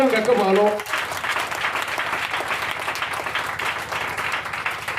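A church congregation during a French-language Thursday sermon breaks into loud applause and cheering after a brief spoken line, the clapping dense and sustained, filling the room with crowd noise.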